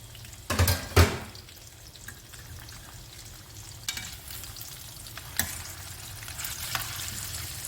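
Masala-coated fish frying in a pan, a steady soft sizzle with a couple of loud knocks near the start and occasional faint clatters over the hiss.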